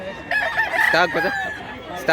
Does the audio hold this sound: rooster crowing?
yes